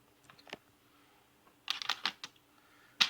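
Ground beef jerky is flipped on parchment paper in a dehydrator after about four hours of drying. Faint taps give way to a close burst of crisp paper crinkles and rustles, then one sharp click at the end.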